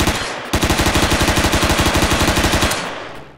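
Loud rapid burst of automatic gunfire from a newly picked-up weapon in a video game, about twenty evenly spaced shots fired close up in one steady volley, then a short ringing tail.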